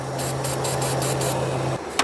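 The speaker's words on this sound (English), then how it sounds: "I'm gonna spray starting fluid right here" Starting fluid sprayed into the intake manifold of a BMW X5 with a crank-no-start fault, a steady close hiss holding for nearly two seconds before cutting off, followed by a brief faint click.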